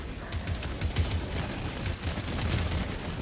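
Shotgun fire from the slugger shotgun in a video game, a steady dense barrage of rumbling gunfire and booms across the whole stretch, with no talk.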